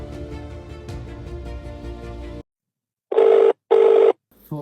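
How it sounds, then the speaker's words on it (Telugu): A telephone rings in a ringback pattern of two loud, even buzzing tones separated by short silences, following a stretch of steady tonal hum that cuts off abruptly. "Phone ఎత్తరా, phone ఎత్తరా."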